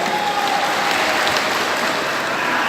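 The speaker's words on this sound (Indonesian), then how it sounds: "Penonton yang berbahagia, berikan tepuk tangan kepada mereka." A steady burst of audience applause at a Quran recitation competition final, many hands clapping together at close range, continuous and fairly loud for the whole stretch.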